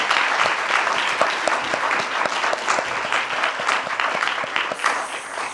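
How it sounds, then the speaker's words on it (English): Audience claps for a panel at a talk on patient-researcher partnerships, steady mid-sized applause with some distinct nearby claps, gradually easing toward the end. "Let's give everybody a round of applause."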